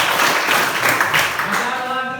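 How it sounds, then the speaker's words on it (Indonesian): Classroom clapping during an Indonesian history lesson: dense, continuous applause from a group of students, fairly loud and close, tapering slightly toward the end. "Iya, tepuk tangan dulu"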